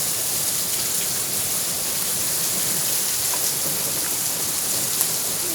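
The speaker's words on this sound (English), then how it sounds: "Yeah, it's raining in Arizona right now." Steady rain falls in Arizona during a flash flood warning, a dense even hiss of drops on surfaces with no gaps.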